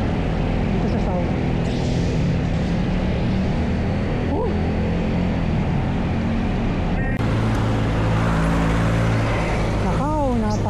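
Steady road traffic rumble on a busy highway near Santo Tomas, Batangas, heard from a folding bike, with engines droning continuously and a rising horn-like whine near the end.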